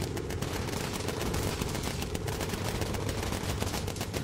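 Bomber gunners firing machine guns in the video game Bomber Crew, a dense, continuous rattle of automatic fire filling the whole stretch at steady, moderate loudness with no pauses.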